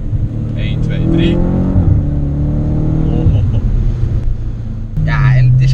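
An Audi RS5 engine revs through a downshift, climbing and dropping in pitch with blips near the end, loud and close inside the car while someone talks over it.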